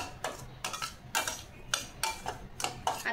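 A metal spoon scrapes and clinks against a wide plate in about six quick, evenly spaced strokes while roasted semolina for karanji is scooped out, close and fairly crisp with no talking.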